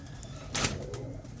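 A slate-grey breeder pigeon coos softly nearby, a low murmuring call with a brief brighter burst partway through, steady background hum beneath and no talking.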